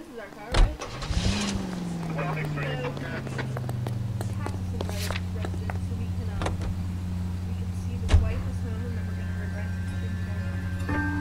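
A car engine in the video game L.A. Noire cranks and catches, then settles into a steady low idle hum, heard under intermittent talk with a few clicks and door-like thumps.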